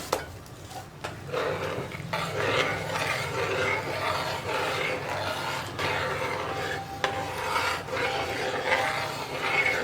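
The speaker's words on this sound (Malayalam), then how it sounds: "ഞാനിപ്പോൾ അവിലും കൂടി ചേർത്തിട്ട് മിക്സ് ചെയ്യാൻ പോവാണ്" A spoon stirs flattened rice (aval) into dates payasam in a pot, making soft scraping and rubbing sounds with occasional light clinks of utensil against metal, steady and close with no talk.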